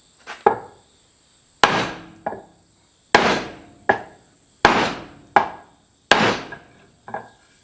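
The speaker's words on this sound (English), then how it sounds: "you can take a block of wood and hit it with your hammer to start getting it loose" Hammer blows on a wood block held against a rusted, stuck front brake rotor of an E70 Land Cruiser during a brake and bearing job: six loud, sharp wooden knocks at even intervals, close by, with short rattling echoes and no talk.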